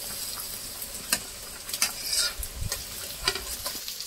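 Ginger sizzles while frying in hot oil for fried rice, a steady crackle with scattered stirring scrapes and taps, close and moderately quiet, with no talk.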